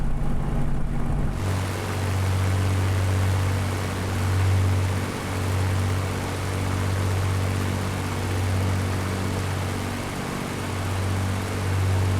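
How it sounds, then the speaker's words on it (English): Spitfire engine in Microsoft Flight Simulator, screaming with the propeller set up: a steady, droning, continuous engine roar with a humming whine, loud and constant throughout, with no talk. "Suddenly realised the poor old engine is screaming because I still got the prop up from when I was messing about before."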